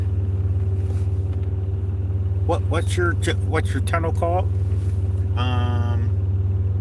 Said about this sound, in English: Oh, it's an asphalt truck.